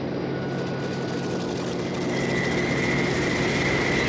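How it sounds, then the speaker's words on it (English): A Tracker anti-submarine patrol aircraft from the 1950s Royal Canadian Navy, its propeller engines giving a steady broadband drone that swells slightly louder midway, with a sustained tonal whine over the roar and no voices. "Tracker aircraft flew anti-submarine patrols."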